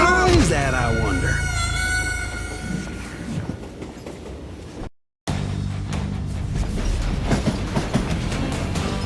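A train rolls along in the video game Call of Juarez: Gunslinger, a loud, steady rumble with clattering wheels and a squeal early on, cut by a brief dropout midway, with voices over the top.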